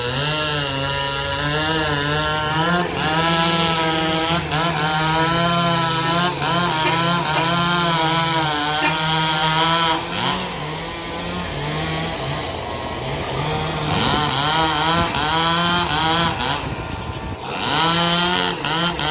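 A chainsaw engine drones steadily and loudly throughout, its pitch wavering as it bites into the base of a tree trunk, with brief dips and surges while cutting.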